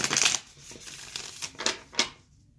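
A few short bursts of card riffling up close, separated by brief pauses, then silence.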